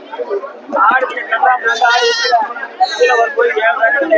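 Goats and sheep bleating at a busy Sunday livestock market, several overlapping loud calls close by over a constant hubbub of crowd chatter and voices.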